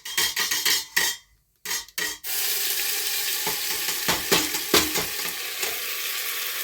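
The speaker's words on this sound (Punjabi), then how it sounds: "ਤੇ ਹੁਣ ਆਪਾਂ ਜਿਹੜਾ ਮਸਾਲਾ ਬੀਟ ਕੀਤਾ ਉਹਨੂੰ ਕੁੱਕਰ ਪਾ ਦਿੰਦੇ" Ground spice paste drops into a pressure cooker for a mushroom and pea curry and bursts into loud, steady sizzling, with scraping and stirring strokes close by and no talk.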